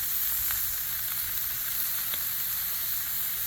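Food searing on a Blackstone flat-top griddle, a steady close hiss of sizzling fat with faint ticks and pops, continuous and fairly loud throughout, no voices.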